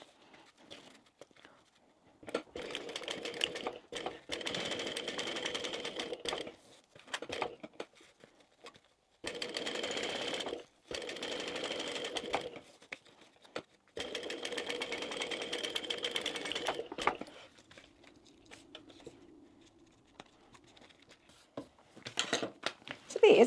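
A home sewing machine stitches a small slip pocket onto a crossbody bag panel, running in several steady bursts separated by brief pauses, moderately close and alone.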